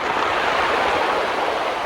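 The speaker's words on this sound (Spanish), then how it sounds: "Qué lindo el sonido del mar, es impresionante." Sea waves wash onto the shore at Paracas, Peru, a loud, continuous hiss of surf with steady wind-like noise and no talking.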